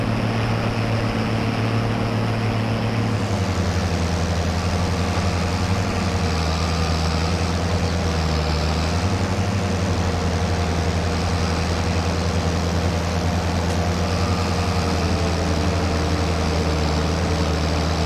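Tractor engine running with a mower attached during early haymaking, a loud continuous low rumble that shifts pitch slightly a few times as load changes, with no talk over it.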